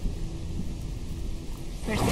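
Lightning thunder in the video game Apotheon: a low, steady rumbling wash of storm noise that swells into a louder crack and roar at the end, with no talking.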